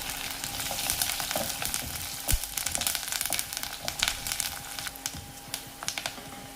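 Green chillies, garlic, ginger and curry leaves with fenugreek crackle and spit in hot oil in a pan, a steady close sizzle dotted with sharp pops and scraping spatters.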